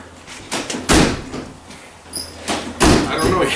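Several heavy thuds and slams of a car door shutting, spaced irregularly, close and loud, with some voices in between.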